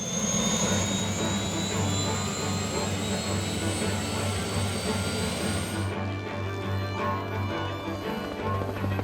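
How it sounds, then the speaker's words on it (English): A helicopter used to airlift harvested Christmas trees to waiting trucks flies close with a loud, steady turbine whine and rotor drone, and a voice narrates over the engine noise. "Next, we bring a helicopter and fly them into waiting trucks."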